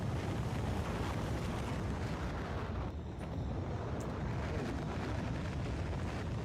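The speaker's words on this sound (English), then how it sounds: "Rockets are noisy." A rocket launch in Factorio, heard as a continuous, heavy, roaring rumble that stays loud and steady throughout with a dense low end, without speech.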